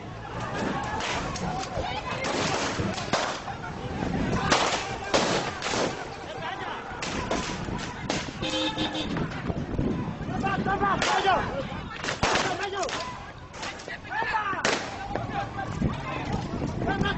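Police fire shots into the air to break up a street protest in West Papua, with sharp bangs scattered through a noisy crowd of shouting voices, the blasts fairly distant and mixed into the commotion.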